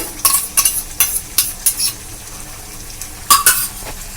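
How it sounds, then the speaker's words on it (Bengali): A spoon stirs whisked yogurt into paneer masala spices frying in a pan, giving a series of quick scraping strokes over a steady sizzle, close and fairly loud. "টক দইটা কিন্তু আমি এর সঙ্গে ভালো করে মিশিয়ে নিচ্ছি মশলার সঙ্গে মিশিয়ে নিয়ে কষে নিচ্ছি"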